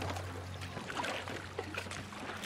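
Oars of a hand-paddled wooden rowboat dipping and splashing in water, soft and fairly close over a low background hum, with no talking.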